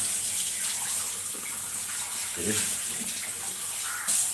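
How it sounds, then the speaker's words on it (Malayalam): Coffee pours steadily into a cup while breakfast is made at home, a continuous watery splashing rush heard up close with no talking. "ഇപ്പോൾ ആയിരിക്കും ഒഴിക്കാൻ നമ്മൾ കോഫി"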